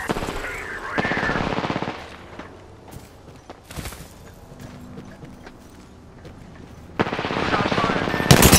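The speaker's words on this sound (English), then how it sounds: "Shot fired. Target's right in front of me." Machine gun fire in a shooter video game comes in loud rapid bursts at the start and the end, with scattered single shots and quieter game sounds between.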